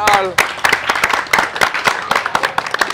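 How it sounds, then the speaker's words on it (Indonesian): A small group clapping over a first-place trophy from 2017, with distinct irregular claps close by, talking and laughter mixed in. "Tepuk tangan."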